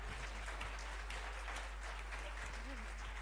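Audience clapping at a university concert tour event in Murcia, steady dense applause heard faintly at a distance under a low constant hum, with voices mixed in.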